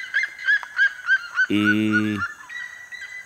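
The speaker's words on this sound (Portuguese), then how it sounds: "fazendo aqui um registro do canto das siriema" A red-legged seriema calling outdoors in Brazil, a loud, close series of rhythmic yelping notes that rise into a sustained honking burst, then trail off into fainter repeated calls.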